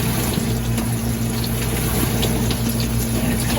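Aerated water spraying and pulsing from the jets inside a GE dishwasher, a steady dense hiss over a low pump hum, continuous and close.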